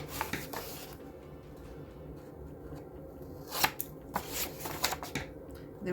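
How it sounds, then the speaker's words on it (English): Scissors snipping the corners off the paper cover of an old address book being refurbished, a few sharp cuts and rustles of paper clustered in the second half, close and fairly quiet. "I'm just gonna take my scissors and I'm gonna cut the corners like this."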